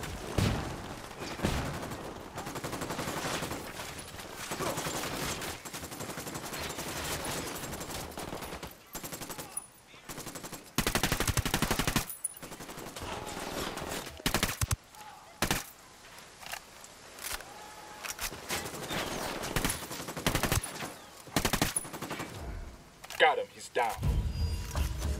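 Bursts of automatic gunfire and single shots ring out in a Ghost Recon Wildlands firefight at a coca farm, choppy and intermittent across the scene, with voices talking between and over the shooting.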